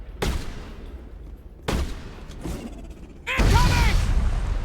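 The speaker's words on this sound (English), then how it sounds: "That's how you throw a grenade." Grenade explosion in the Mass Effect video game, a heavy close blast with a dense roaring tail following two earlier sharp gunfire-like cracks, fairly loud and alone without talk.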